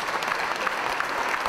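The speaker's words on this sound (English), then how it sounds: "a round of applause for our senators from the United States" Crowd at a 2019 Independence Day event applauding United States senators, steady dense clapping throughout the short stretch.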